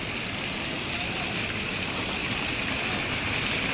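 Water gushes out of the ground from a natural spring at the overflowing Chavand village pond near the Jadeshwar Mahadev temple, a continuous, even rushing and hissing flow, close and steady, with no break.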